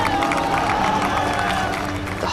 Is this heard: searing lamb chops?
no